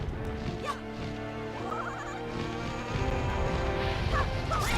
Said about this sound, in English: that weird sound is coming from the Helmer rock birds